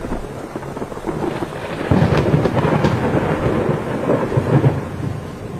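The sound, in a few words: thunder and rain, first rain of a cartoon bird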